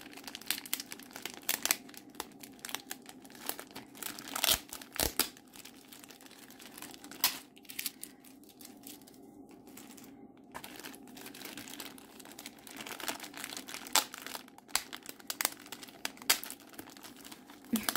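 Plastic packaging of a diamond painting kit crinkles and crackles in irregular bursts as it is unwrapped, close and fairly quiet, with sharp rustles scattered throughout.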